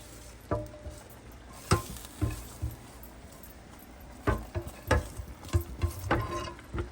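Spoon scraping and stirring spinach and broccoli saag in a pan, a series of short knocks and scrapes spaced irregularly over a quiet background, fairly close.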